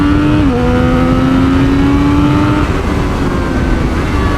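A 2024 Triumph Street Triple 765 RS motorcycle pulls hard under acceleration, its loud, close engine note rising in pitch, dipping at a quick-shift, then rising again, with wind roar throughout.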